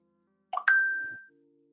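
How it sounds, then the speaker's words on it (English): A phone notification chime plays once, a bright two-note ding that rings out clearly and fades over about half a second, alone with no talk. "Let me turn off that notification sound."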